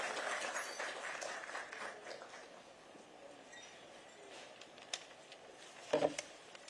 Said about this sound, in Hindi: जोरदार तालियों से माननीय मुख्यमंत्री जी का स्वागत कीजिएगा